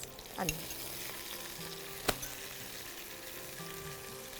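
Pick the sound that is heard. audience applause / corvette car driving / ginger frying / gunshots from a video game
ginger frying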